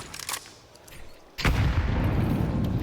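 A grenade detonates in a professional Counter-Strike match: a sudden loud boom with a rumbling tail, preceded by a few quieter clicks and footsteps, with no talk.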